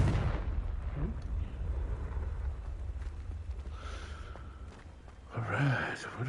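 A Confringo spell explosion in a Harry Potter video game, a deep rumbling blast with a booming low roar that swells near the end, with a faint voice murmuring underneath.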